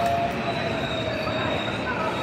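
Ambient sound inside a large train station on a separate train line, a steady rumbling hum with faint rail noise and a thin high whine, continuous and fairly loud, with a voice talking over it.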